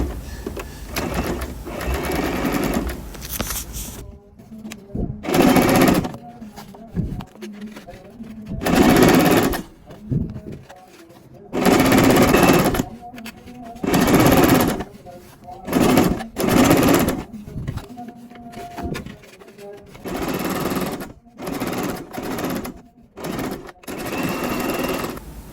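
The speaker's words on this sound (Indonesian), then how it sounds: "Sisa kampuhnya kita jahit lagi, kita arahkan ke staplek." A sewing machine stitches a men's trouser waistband in repeated bursts of rapid, close, whirring clatter separated by short pauses, with a person talking in between.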